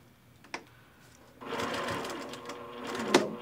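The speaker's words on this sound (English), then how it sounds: "Backstitch, and we're ready to take our frog out of the sewing machine." A sewing machine runs steadily for a couple of seconds while stitching a stuffed frog toy shut, with a brief backstitch. A sharp click comes before the run and another at the end.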